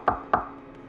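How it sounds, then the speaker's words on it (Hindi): Knocking on a door as a horror story sound effect: two sharp, close knocks in quick succession, followed by a fainter third tap. "अचानक दरवाजे पर अंदर से ठक ठक हुई, छोटे हाथों की दस्तक"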